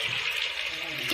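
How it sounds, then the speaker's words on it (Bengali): Water poured into a pan of Dhaba-style egg tarka, a brief, steady splashing pour heard close and alone. "এবার আমি পরিমাণ মতো এটা জল দিয়ে দেবো"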